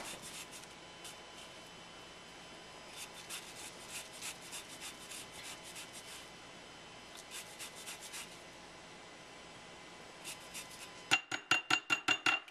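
A key lime zested on a microplane over a bowl, soft rhythmic scraping strokes in short bursts, followed by a quick series of sharp taps as the grater is knocked against the bowl.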